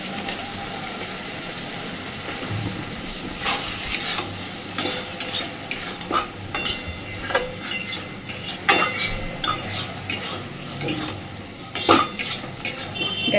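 Potato and pointed gourd curry in a pan, dressed with raw mustard oil, being stirred with a utensil: a run of irregular close scrapes and clinks against the pan over a soft background hiss, with no talking.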